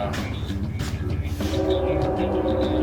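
A train rolls past with a rumbling, rhythmic clatter, and a sustained horn-like tone rises over the noise in the second half, fairly loud and with no talking.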